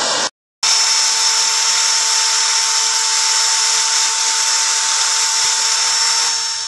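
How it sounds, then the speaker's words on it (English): Power drill fitted with a brass wire brush scrubbing light paint off a Perfection oil heater: a steady, high-pitched whine and rasp running continuously after a brief pause at the start, close and loud. "a torch and a drill with a brass brush, and it's clean"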